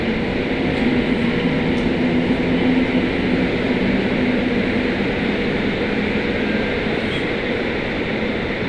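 Polish N61 train departing near Kraków, a steady, loud rumble of wheels and engine rolling past at close range, with no break in the noise and no voices.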